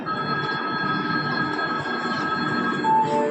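A train pulls out of a station, a loud steady rumble with tonal wheel and motor whine, a brief higher squeal near the end.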